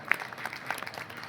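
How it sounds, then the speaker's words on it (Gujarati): Audience at a Surat dayro clapping to welcome a donation, scattered, fairly light applause with a few sharper individual claps, brief and slightly distant. "જોરદાર તાળીઓના ગડગડાટથી વધાવો"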